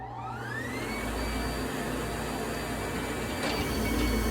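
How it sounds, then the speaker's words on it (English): A vacuum on a screen printing table runs steadily, a loud continuous whir with a rising whine as it spins up and then holds a constant drone throughout, with no talking. "So I'm going to turn on the vacuum."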